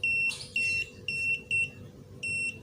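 An Aneng SZ02 multimeter in NCV voltage-detection mode gives a loud, high-pitched electronic beep that repeats in five short and long pulses with brief gaps, over a quiet low hum.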